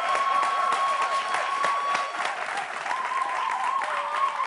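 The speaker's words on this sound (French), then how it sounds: "Je veux que vous applaudissiez pour celui qui a créé ce concours-là" Audience applause rings out for the creator of a contest, dense steady clapping from a crowd lasting throughout, with faint tonal sounds from a choir or music in the background.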